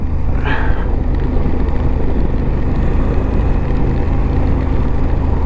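A Honda Africa Twin 1100L motorcycle engine drones steadily while riding in bad weather, loud and constant under heavy wind rush across the microphone, with no break in the sound.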